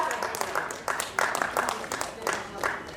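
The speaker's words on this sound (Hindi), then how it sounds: "अपने लिए एक बार जोरदार तालियां बजाएं" An audience at a poetry gathering at a book fair claps in scattered bursts, moderately loud and close, with some voices mixed in under the applause.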